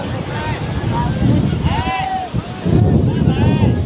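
Loud gusty, cold wind buffeting close by on the seashore at Dwarka, with surf rolling underneath and a voice faintly audible through the roar.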